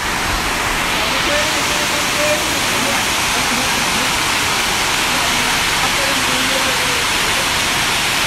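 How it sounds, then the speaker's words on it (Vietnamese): Rain falls steadily, a dense, constant broadband hiss like a downpour that stays loud and even throughout with no pauses. "Không sợ mưa rơi."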